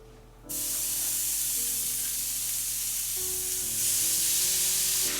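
Ground beef hitting a hot pan for a keto shepherd's pie, bursting into a loud, steady sizzle that swells a little louder toward the end, close and alone with no talk.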